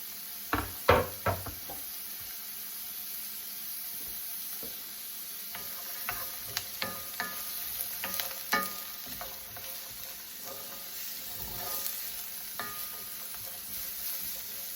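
Carrots and other vegetables for a frittata sauté in a pan under a quiet, steady sizzle, with sharp knocks early on and intermittent scraping and clinking from stirring, and no voices.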